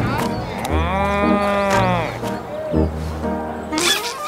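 Cow in a Bulgarian-dubbed film, giving a loud, close, drawn-out moo followed by a shorter second low call, with other noises around it.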